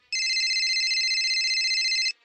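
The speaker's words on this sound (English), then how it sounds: "My phone started to ring." A phone ringing with a bright electronic ring tone, one continuous two-second burst that starts and stops sharply, close and clear against silence.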